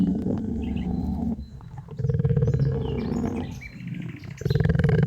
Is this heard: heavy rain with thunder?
no